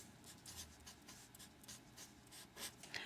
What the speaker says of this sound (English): So you write down the equation